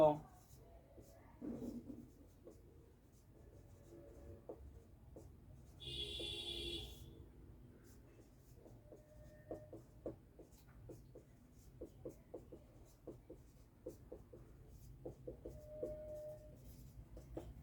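Pen scratching across paper while an algorithm is written out, a run of soft, irregular short strokes close by over a low steady hum, with brief breathy noises in between.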